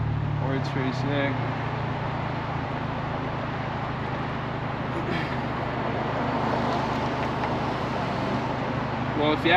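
A car drives along a road with a steady, moderate rumble of tire and road noise filling the cabin, a constant drone with faint passing sounds.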